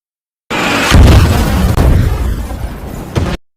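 A film explosion as a shot strikes Volta's ship: a loud, close blast opens with a heavy boom, then a rumbling roar trails off, broken by a second sharp burst before cutting out.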